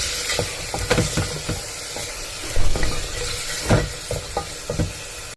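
Biryani ingredients sauté and fry in a pan, with repeated scraping and clattering strokes of a spatula over a soft continuous sizzle, close and fairly loud, without speech.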